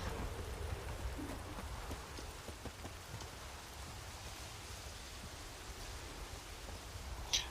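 Steady rain in The Witcher 3: Wild Hunt, a continuous soft hiss of falling drops with faint scattered patters, moderately quiet and even throughout with no voices.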